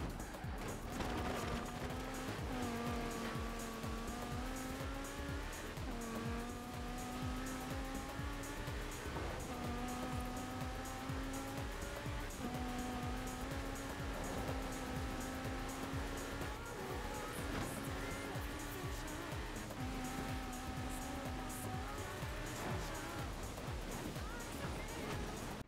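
A BMW M6 Coupe races in Forza Horizon 4, its engine roaring loudly and continuously, climbing in pitch through repeated gear shifts over a long stretch of hard driving.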